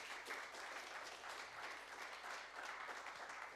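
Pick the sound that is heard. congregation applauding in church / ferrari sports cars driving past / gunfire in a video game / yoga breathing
congregation applauding in church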